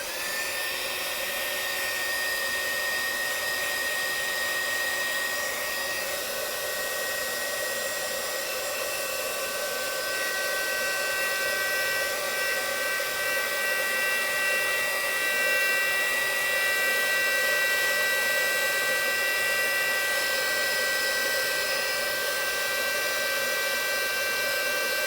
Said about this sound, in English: So I'm sorry if I'm going to use my little heating tool.